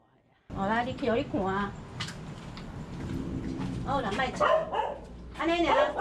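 Several sharp dog barks ring out close by in two bursts, with a gap of murmuring and movement between them.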